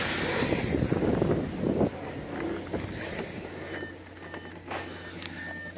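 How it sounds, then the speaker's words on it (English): A 2013 Audi A4 Avant 3.0 V6 TDI sounds its warning chime, engine running with the driver's door open. Thin repeated beeps ring out in the second half over a low idle and outdoor wind noise. "That'll stop beeping when I get in. It's just to inform me the engine's running and the door's open."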